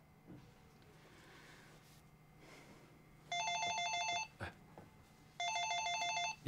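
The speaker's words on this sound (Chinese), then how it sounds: "你看，来电话催了吧？" An old-style telephone bell rings indoors in two loud, rapid trilling bursts separated by a short pause, with faint room noise in between.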